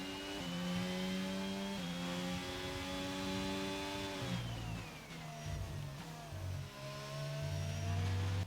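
A Formula 1 car engine in the F1 22 game at Imola whines through high revs, shifts up in quick steps, then drops and climbs again through a chicane, loud and close with no talk.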